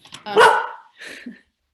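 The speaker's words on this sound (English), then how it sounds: "The dog is barking." A dog barks indoors in a house, giving one loud, ragged bark followed by a shorter, softer second bark, close to the listener.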